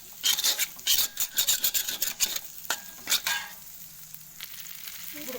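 Egg frying in oil for masala noodles while being stirred, a bright crackling sizzle with quick scraping strokes of a spatula, loud and close, easing to a quieter sizzle toward the end with no talk.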